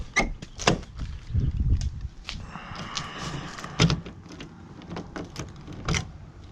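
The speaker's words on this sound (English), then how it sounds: "let me go ahead and close the door" Door handling on a Ford Excursion SUV, with clunks, rattles and a mechanical whirr over several seconds ending in a solid thump of the door shutting, close and fairly loud.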